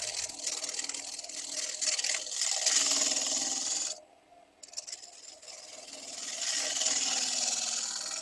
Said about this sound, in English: true up the tenon. I'm going to do that with a 1/2-inch spindle gouge